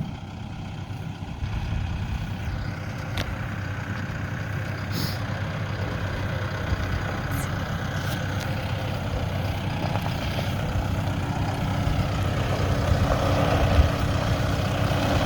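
A farm truck idles steadily for about fifteen seconds, a constant low engine rumble with a few faint clicks and knocks, growing slightly louder toward the end, with no talking.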